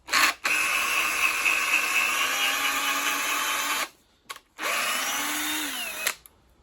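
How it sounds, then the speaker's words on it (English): A power drill driving a screw whines loudly in a long sustained burst, cuts off, then spins up again briefly with a falling pitch as the screw seats. "this is the screwdriver, the drill"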